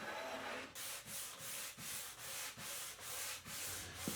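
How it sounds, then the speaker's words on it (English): Plywood being sanded by hand at a rounded front corner for a vanity, a steady run of about nine rhythmic rubbing strokes, close and fairly loud with no talk. "Thing to watch for when you're sanding plywood like this is not to be too aggressive."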